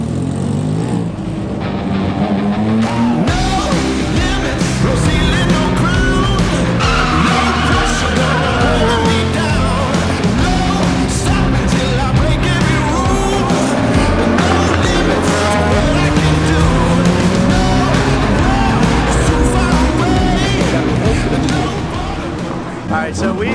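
A Legend race car's engine drones loud and steady on a track practice session, the engine note rising and falling through gear changes as it laps, heard from on board.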